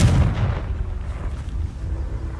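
A Confringo blasting spell detonates in a video game, a loud, deep booming explosion that hits hard at the start and rumbles on in a heavy low roar.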